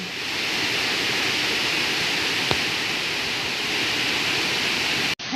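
Twin Waterfall, a pair of cascading falls, roars as a steady, loud, broadband rush of falling water that holds constant throughout, cutting off abruptly near the end.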